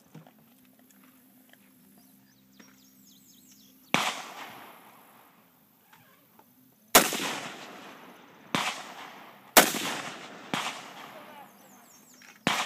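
Loud M1 Garand rifle shots, several sharp cracks spaced a second or two apart, each with a short echoing tail, after a quiet stretch with faint background noise.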